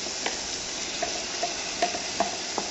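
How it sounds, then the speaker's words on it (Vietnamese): Liver and meat stir-fry together in a pan with a low, steady sizzle, broken by soft scraping strokes of a utensil at a regular beat, heard close with no talking. "mình chỉ xào chín thôi"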